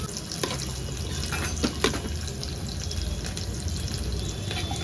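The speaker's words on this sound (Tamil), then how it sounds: "இப்போ தண்ணி ஊற்றிக்கிறேன் 1 கிளாஸ் அளவுக்கு." About one glass of water runs steadily into a cooking pot for prawn biryani for a few seconds, a continuous close pour with a few brief clinks.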